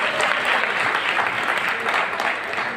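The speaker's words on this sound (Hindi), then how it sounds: "जोरदार तालियों से स्वागत करेंगे।" A crowd at an Aam Aadmi Party public meeting claps loudly to welcome the chief guest, with a dense, sustained burst of applause that holds steady for the whole few seconds.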